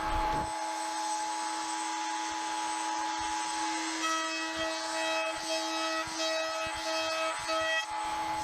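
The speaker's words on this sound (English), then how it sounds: "Then I round over the sharp corners on the router table so it doesn't snag any blankets." A router table rounds over the sharp edges of wooden pieces for a blanket ladder, giving a loud, steady high-pitched whine that runs unbroken through the whole stretch with no speech.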